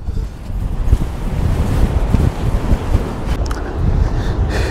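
Strong wind at the coast near Cape Town buffets the microphone in a continuous, loud rumble, with surf washing underneath and no talking.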